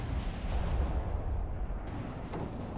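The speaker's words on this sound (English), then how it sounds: "Jerry's bombarding our lines." Artillery bombardment in the Company of Heroes 3 video game: a muffled, distant rolling boom with low rumbling blasts that swell and fade, followed by a sharper crack near the end.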